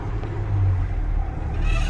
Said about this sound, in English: So idle, second gear, rev it up to grand.